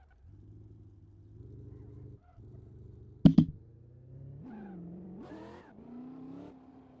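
A car in the Assetto Corsa racing game hums at low revs through a long pit lane, broken by a sharp click midway, then revs up and down in uneven surges toward the end.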